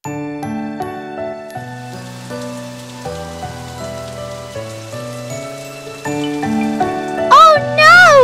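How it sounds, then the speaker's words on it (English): Rain patters down in a children's cartoon, a continuous tinkling drizzle under bright musical tones, with a voice near the end. "Oh no! It's raining!"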